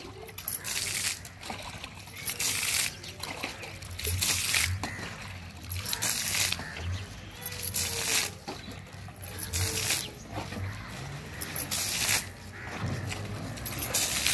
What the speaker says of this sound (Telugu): శివరాత్రి సందర్భంగా వాకిట్లో చాంపి చల్లుతుంది